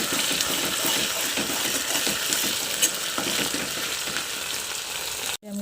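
Onion with ginger garlic paste frying in a wok: a loud, continuous sizzle with the scrape and clink of stirring, ending in a brief knock.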